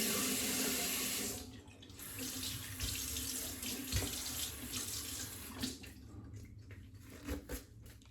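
Water running from a tap into a sink, a strong steady gush at first that then drops lower and breaks into uneven splashing and dribbling as hands or soap move under the stream, close and without talk.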